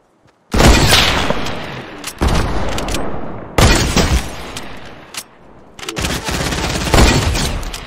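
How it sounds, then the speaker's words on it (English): Loud, booming gunfire bursts in Fortnite, several heavy shots with long echoing tails in quick succession, close and dominant with no talking. "and I snipe him again"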